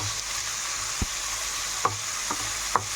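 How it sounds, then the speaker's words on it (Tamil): Onions frying in a pan sizzle steadily while a spoon stirs them, with a few distinct scraping knocks against the pan. The sound is close and moderate, with no voices. "இப்போ நம்ம கிண்டி விட்டுக்கலாம்."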